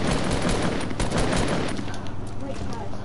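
Rapid gunfire in the Fortnite video game, dense and continuous at first and then thinning out, loud and close throughout.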